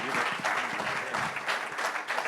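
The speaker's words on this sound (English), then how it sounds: "Let's give a giant round of applause for Dominic Florio" Loud, dense audience applause welcomes a panel speaker at a men's panel masterclass session, a continuous wash of many hands clapping that holds steady throughout.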